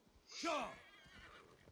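A horse whinnies once in a sharp, descending neigh, fairly close, followed by softer ambient noise and faint hoof sounds, in the video game Assassin's Creed Valhalla.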